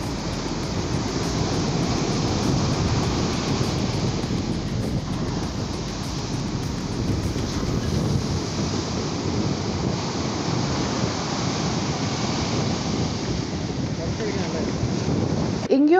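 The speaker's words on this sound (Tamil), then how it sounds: "எங்கேயும் அலை பயங்கரமாக அடிச்சிட்டு இருந்தது, ஆனால் கோலம் பீச்சில் இருந்த அளவுக்கு இல்லை." Rough surf pounds a beach ahead of a storm, a steady loud roar of breaking waves mixed with heavy wind buffeting the microphone.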